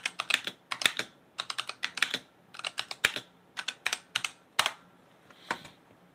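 Fast irregular clicking of typing on a borrowed computer keyboard, bursts of close, crisp keystrokes with brief pauses between words, no speech.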